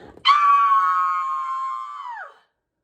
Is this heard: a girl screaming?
yes